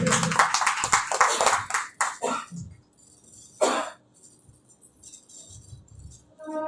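Loud audience applause at a Christian church gathering, a dense burst of clapping for about two seconds that fades quickly, followed by a brief flurry of claps and quiet room tone.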